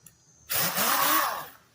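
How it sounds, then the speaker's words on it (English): A dual-action power sander on a golf cart body panel starts up abruptly and whirs steadily for about a second, its pitch wavering, before winding down. "I got my DA sanding paper on my DA sander."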